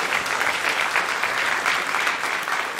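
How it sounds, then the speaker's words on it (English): Audience applause at the final pitches of a Startup Weekend in Oulu, a steady, dense round of clapping that stays full and even from start to finish. "let's give it up. Round of applause."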